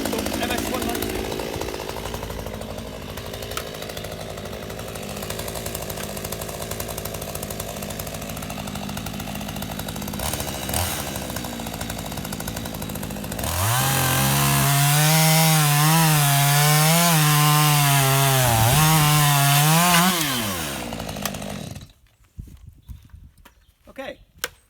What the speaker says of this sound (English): Okay, so that's the 192 in action. Very, very nice saw.